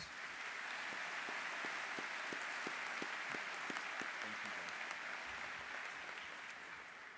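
Audience applause at a high school graduation ceremony: a dense, sustained ovation from a large crowd that holds steady throughout and tapers only slightly at the very end.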